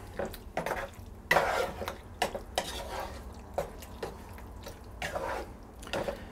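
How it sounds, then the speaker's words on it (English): Sauce being stirred into a chunky beef ragu in a pot, made up of a series of wet scraping and clinking strokes of a spoon against the pot at moderate loudness, with no talking. "And then stir that in."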